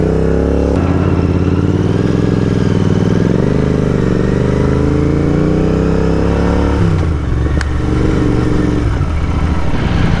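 A 2022 Royal Enfield Continental GT650 motorcycle accelerates hard in a long race against a KTM Duke 390. Its loud, close engine note climbs in pitch, drops at a gear change and then rises again.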